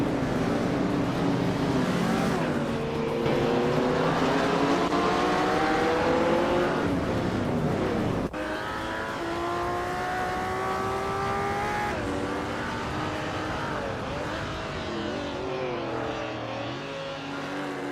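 Race car engines in a racing video game scream and rise in pitch as cars jostle and overtake, with one sustained, loud, steady roar whose tone shifts sharply midway as a new car takes the lead.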